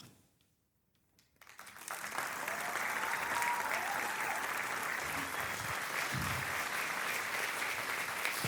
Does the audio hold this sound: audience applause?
yes